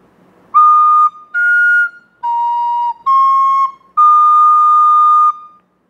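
Recorder playing the Thai royal anthem: five sustained, clear breathy notes in a slow melodic phrase, close and fairly loud, with short gaps between notes and no voices.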